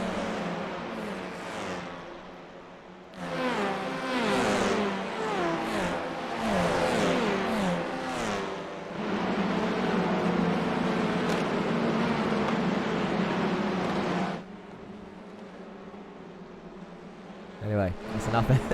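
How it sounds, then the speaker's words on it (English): Race car engines in a sim racing league round at Canadian Tire circuit, a pack of cars screaming past in waves of high-pitched revving and gear changes, loud and continuous for long stretches before dropping away near the end. "Let's have a listen to those engines."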